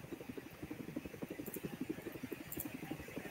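Helicopter in a video game, a steady rapid rotor chop with even pulsing beats, fairly quiet and continuous throughout.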